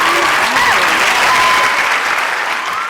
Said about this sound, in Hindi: तो बहुत सारी तालियां इसके लिए